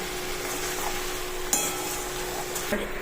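Cabbage cooking in a pan gives a steady, even sizzle throughout, with a few faint clinks of a utensil against the pan.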